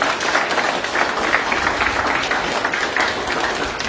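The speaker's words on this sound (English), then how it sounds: "Let's hear another round of applause for Marcy" A graduation crowd applauds continuously, a dense wash of clapping from many hands that holds steady throughout.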